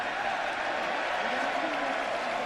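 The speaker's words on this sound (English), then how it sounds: "The crowd was cheering the 10-second runoff." A college football stadium crowd at West Virginia versus Baylor cheers in a broad, steady roar of many distant voices and applause during a ten-second clock runoff.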